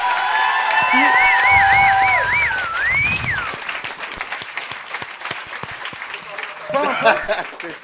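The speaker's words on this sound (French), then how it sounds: "Mesdames et messieurs, on applaudit bien fort Aurélien." Comedy club audience bursts into sustained applause with some cheering, fading into scattered claps, while whistle-like vocal sounds ring out at the start and talk rises near the end.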